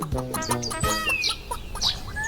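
A rooster clucks and calls in several short, harmonic bursts, fairly close, with chirpy bird sounds mixed in and no talking.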